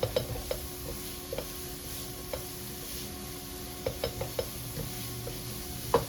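Ingredients for a creamy cheesy chicken pasta are stirred in a pan, with a soft, steady sizzle under occasional clinks and scrapes of the spoon, fairly quiet and close.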